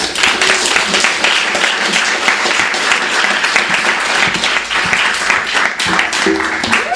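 A fairly large crowd at an evening book reading applauds warmly to welcome author Lydia Millet, sustained loud clapping close by that holds steady for several seconds.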